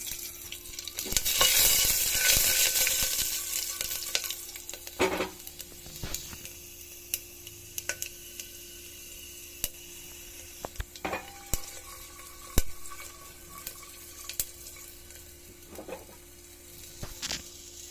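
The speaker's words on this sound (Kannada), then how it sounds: "ಇವಾಗ ನಾನು ಇದೇ ಟೈಮಲ್ಲಿ ಗಾರ್ಲಿಕ್ ಕೂಡ ಹಾಕ್ತಾಯಿದ್ದೀನಿ. ನೋಡಿ ಹೇಗೆ ಸೌಂಡ್ ಆಗ್ತಾ ಇರೋದು." Garlic with peanuts and chana dal frying in a pan, starting with a loud burst of hissing sizzle that settles into a softer crackle, broken by scattered clicks and taps of a utensil.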